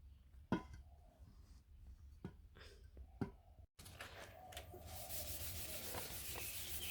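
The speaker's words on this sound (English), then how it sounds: "You can see me sanding the Brite Tone cup." Sandpaper rubs against a hard Brite Tone resin cup, first in a few separate scraping strokes, then a continuous louder rasping after a brief cut.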